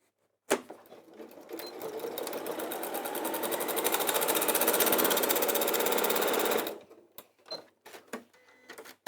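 A sewing machine runs for about six seconds of rapid, rattling stitching along a bag seam, then stops, followed by a few short clicks and handling noises.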